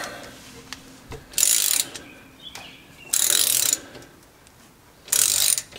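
A hand ratchet loosening differential cover bolts, three quick clicking bursts of about half a second each at even gaps, close and clear, with light tapping between and no talk.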